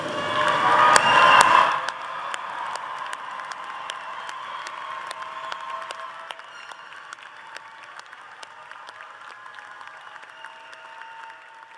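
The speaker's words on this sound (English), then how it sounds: "Audience, please stand and give these graduates a round of applause." Audience applause and cheering for graduates at a university commencement, a loud burst of clapping that cuts off sharply after two seconds, leaving a quieter hall with lingering sparse claps.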